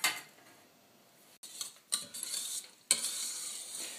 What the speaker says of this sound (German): Dabei rühren wir hin und wieder den Milchreis um, dass er uns nicht anbrennt.